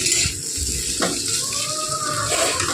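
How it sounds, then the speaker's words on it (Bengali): Potatoes, peas and radish frying with onion and green chilli in a pan: a steady close sizzle with a brief stirring scrape partway through, no talk. "আর এই যে আলু ভাজা হচ্ছে এখানে"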